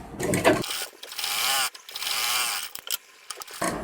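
Sewing machine mechanism clatters in short, uneven mechanical bursts while stitching a princess cut blouse, close and fairly loud, with brief gaps between runs.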